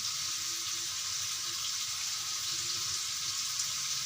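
Prawns frying over a high flame in a pan for biryani, releasing water as they cook, give a steady loud sizzle and hiss that runs unbroken throughout, with no talking.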